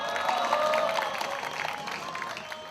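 Audience applause at a peace rally in Gwangju for a Korean peninsula peace treaty, steady clapping from a sizable crowd with a few cheers, continuous through the clip and fading slightly toward the end.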